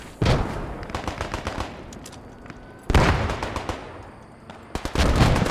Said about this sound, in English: hard to tell who these mortars are from at this point